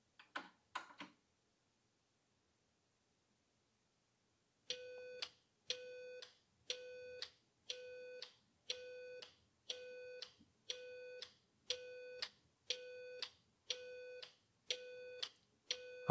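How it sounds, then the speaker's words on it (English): Relay computer reading tape data from a cassette deck, played through a speaker as a rapid burst of tones and then a steady series of evenly spaced electronic beeps, about one every second, clear and alone. "I'm just going to mute the beeping by disconnecting the speaker"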